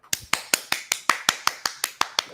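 A dozen sharp hand claps at a steady, quick rhythm, close and crisp, each a short bright smack with no other sound between.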